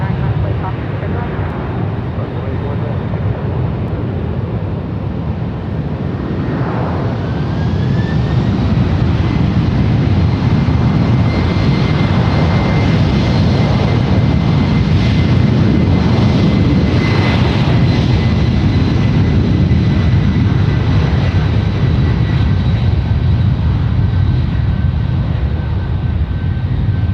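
United heavy jet airliner taking off on runway 1 Right at San Francisco International Airport, a loud sustained engine roar building and holding, with a rising whine and air traffic control radio talk over it.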